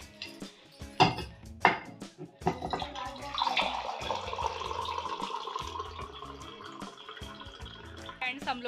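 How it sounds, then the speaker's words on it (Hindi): Water pours in a home kitchen, a steady splashing stream running for several seconds after a few sharp clatters of dishes, fairly close and heard on its own. "पानी ले लेती हूँ मैं।"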